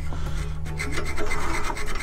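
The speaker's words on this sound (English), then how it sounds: "I just use a sanding disc to shape the rest" Steady abrasive rasping of a sanding disc grinding against chestnut wood on a lathe, a continuous close-up scraping with a low motor hum underneath.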